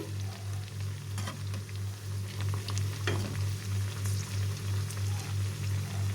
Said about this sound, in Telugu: ఇలా మంచి కలర్ వచ్చే వరకు ఫ్రై చేసుకుందాం